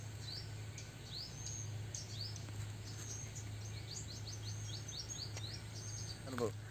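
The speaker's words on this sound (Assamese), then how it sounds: "একদম চৰাই চিৰিকটি মাতবিলাক শুনি যায়," Small birds chirp and tweet in repeated short calls across a farm field, fairly faint over a steady low hum, with no talking.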